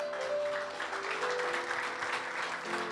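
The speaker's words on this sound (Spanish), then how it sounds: "¿Le da un aplauso al Señor?" A church congregation at a Sunday service applauding, a dense, even wash of clapping from many hands that holds steady for a few seconds at moderate distance.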